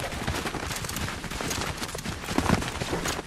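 Shotgun blasts from the game Fortnite ring out in dense, repeated bursts amid a busy, continuous mix of game noise and chatter, loudest toward the end.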